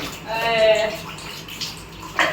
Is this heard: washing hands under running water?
yes